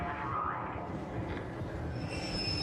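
A train pulling in within the video game ARC Raiders, a steady low rumble of rolling wheels and carriages with a thin high metallic whine that rises late on, continuous and fairly close, with no talk.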